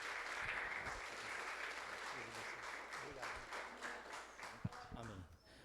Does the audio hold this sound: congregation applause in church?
yes